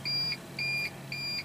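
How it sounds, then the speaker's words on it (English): An RV battery backup gives three evenly spaced electronic beeps, each a steady two-tone chirp lasting about a third of a second, over a low hum. "You can hear the battery backup beeping here in a second."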